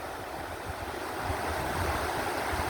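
Rushing flood-swollen river rapids in Tennessee, a dense, steady roar of churning water with low rumbling surges, loud and close.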